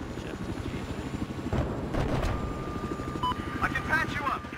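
Helicopter in the video game Battlefield 4, a steady rotor and engine drone that holds throughout under excited talk from a player, with scattered game effects on top.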